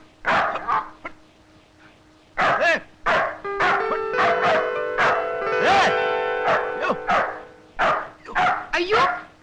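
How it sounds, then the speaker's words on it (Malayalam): Dog barking in bursts near a house, close and loud, with people talking over and between the barks. "പട്ടി വല്ലാതെ കുറയ്ക്കുന്നുണ്ടല്ലോ"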